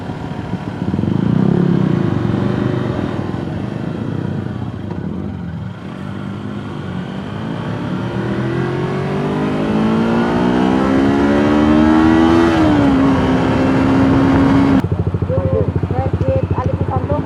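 A Kawasaki Versys 250 motorcycle accelerates in 4th gear on the road, its engine note climbing steadily in pitch under wind noise before easing off, with a voice heard faintly at the start.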